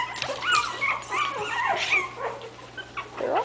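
Bichon puppies about two and a half weeks old whimper and yip in a steady run of thin, high cries, several overlapping, close to the microphone and continuing throughout without talk.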